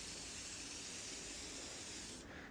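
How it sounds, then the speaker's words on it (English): An aerosol can sprays lubricant onto a tilt garage door spring in one continuous close hiss. It stays steady for about two seconds and then cuts off. "Just lightly spray the spring"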